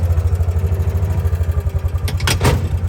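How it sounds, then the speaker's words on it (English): A big tractor engine runs steadily close by, a loud low pulsing rumble with a brief clattering burst near the end and no talking. "Gotta get that big tractor first"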